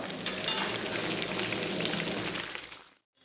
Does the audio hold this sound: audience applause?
no